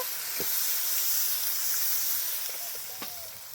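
Water splashed into hot oil and spices in a pan while cooking a stale puti fish chorchori, giving a steady loud hiss and sizzle throughout with a couple of faint clinks, no talk.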